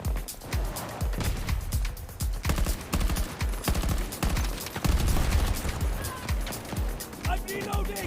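Rapid gunfire in the Battlefield MMXLII video game, dense bursts of shots crackling close and loud throughout, with a brief vocal sound near the end.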